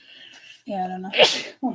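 One loud, close sneeze bursts out in the middle of casual conversation, with people talking just before and right after it.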